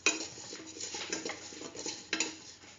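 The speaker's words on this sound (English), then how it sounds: "Thoroughly mix." A spoon scrapes and clinks through chickpea and chayote rice in a metal pot as salt is mixed in, with soft stirring swishes and a couple of sharper taps against the pot rim, close and unaccompanied by talk.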